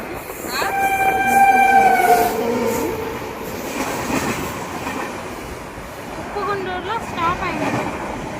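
Passenger train on rails, loud and close, with high metallic wheel squeals early on over a rumbling clatter that continues throughout, and voices faintly heard in the mix.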